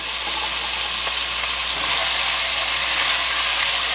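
Pork sizzling steadily in a cast iron pan for pork green chile, salted and stirred, a loud, dense, continuous frying hiss close up with no talk.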